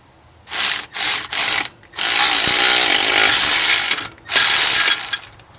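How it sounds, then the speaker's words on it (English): A Milwaukee power ratchet works on the power steering pulley of a 1983 Chevy C10, loud and close, with three short buzzing bursts followed by two longer sustained runs separated by brief pauses. "Got my little Milwaukee ratchet. So here we go."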